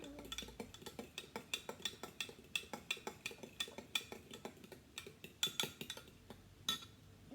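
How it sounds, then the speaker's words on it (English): Vanilla cake batter being stirred in a mixing bowl, a steady run of quick clinking and scraping strokes from a utensil against the bowl, close and fairly even in rhythm, with no talking. "Every single time you put in a new ingredient, mix it very well."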